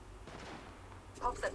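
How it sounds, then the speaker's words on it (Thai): Enemy gunfire in the Apex Legends video game, a short burst of distant shots under a muffled background rumble, ending in a couple of sharper, louder cracks near the end. "เสียงซ้ายมือมีศัตรูอยู่ตรงนี้ มันยิงกันอยู่อ่ะ"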